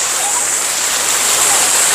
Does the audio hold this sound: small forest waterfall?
yes